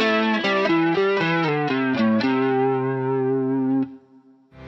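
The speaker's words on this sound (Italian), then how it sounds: "A questa distorsione posso attivare gli effetti di modulazione" An electric guitar with light distortion followed by modulation effects plays a short run of ringing chords, shimmering and sustained, then settles on a long held chord that cuts off, with no talking.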